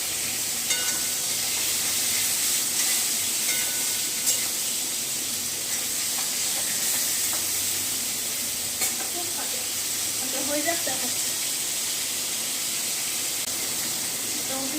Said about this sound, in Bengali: ফাটে রে বাবা, ভীষণ ফাটে।